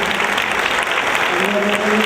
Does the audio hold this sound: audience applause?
yes